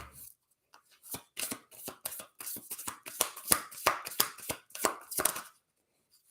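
Tarot cards being shuffled and handled, a run of quick, crisp riffling and flicking bursts that build and fade, close and fairly quiet with no talk.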